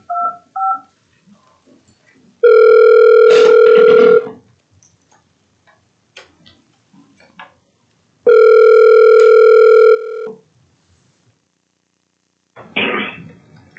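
Touch-tone telephone dialing beeps at the start, then two long, loud ringback or dial tones separated by a quiet gap, as a board of education special meeting calls in a remote participant by phone; a brief rustle follows at the end.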